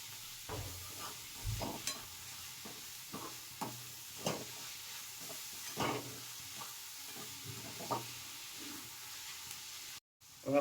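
Spices and onions cook in a pan for a savory semolina appe snack, making a soft, low sizzle broken by repeated stirring scrapes and clatters of a spoon, fairly quiet overall, with a brief knock at the end.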